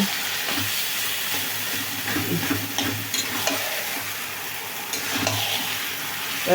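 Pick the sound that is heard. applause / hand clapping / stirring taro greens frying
stirring taro greens frying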